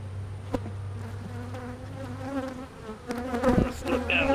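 Honey bees buzz around a beekeeper's ear without a veil, a close, wavering drone that swells and fades as they hover near the microphone.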